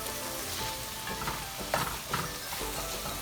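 Jambalaya ingredients sauté in a pot with a steady, dense sizzle and occasional stirring scrapes, heard up close with no voices.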